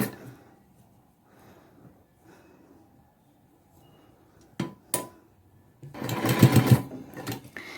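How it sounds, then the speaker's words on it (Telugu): A sewing machine stitching frills onto a blouse puff sleeve, first faint scattered handling noises, then a few sharp clacks and a loud burst of whirring stitching toward the end. "ఇప్పుడు స్టిచ్ చేసుకుందాం"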